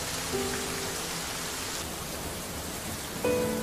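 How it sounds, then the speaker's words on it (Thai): Steady rain falls as a dense, even hiss throughout, with a brief tonal sound near the start and another near the end. "ในวันที่ฝนตก"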